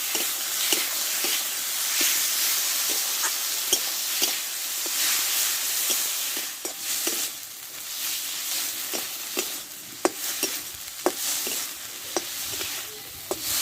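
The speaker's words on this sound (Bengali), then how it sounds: "এবার দিব কচুর লতিগুলো আমি দিয়ে দেবো ভালো করে কষে নেবো আমি" Taro stems stir-fried with spices in a pan give a continuous close sizzle, punctuated by frequent sharp clicks and scrapes of a spatula stirring, with no talking.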